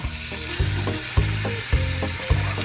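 Meat frying in vegetable oil in a preheated pot for white chicken chili, a steady close sizzle with a few regular soft stirring knocks, with no voices.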